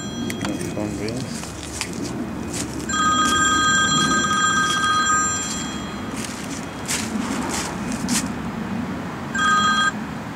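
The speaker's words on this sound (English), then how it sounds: "The phone rings." A telephone rings in repeated bright electronic trills, standing out clearly over room noise, footsteps and a person talking.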